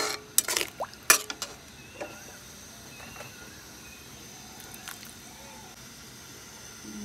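Water going into a fish curry in a wok: a cluster of sharp utensil clinks and scraping stirs early on, then a soft, steady simmering hiss with occasional faint clicks, close and fairly quiet, with no voices.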